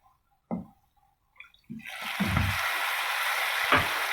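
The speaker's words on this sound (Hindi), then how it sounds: "पानी का थोड़ा सा छींटा और डालना है" A splash of water hits hot oil in a pan of frying masala chana dal, giving an instant loud, steady sizzle after a few quiet taps and clinks.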